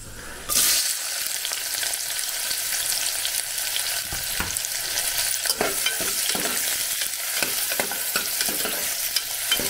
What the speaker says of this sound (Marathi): कांदा आपल्याला मऊसूद होईपर्यंत परतायचा आहे